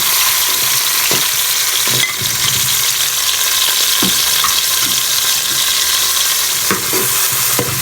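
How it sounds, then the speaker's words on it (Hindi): Ground garlic and green peas are sautéed lightly in a pan for vegetable spring roll filling, with a loud continuous sizzle and occasional soft stirring scrapes, up close with no talk. "इसको हल्का सा हम भून देंगे ताकि ये जो है ज़रा नरम हो जाए।"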